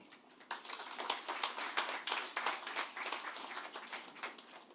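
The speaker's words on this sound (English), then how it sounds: "Round of applause again for the CEO of the NGX." An audience at a capital market engagement session applauds steadily, a faint, even patter of many hands lasting several seconds with no voices over it.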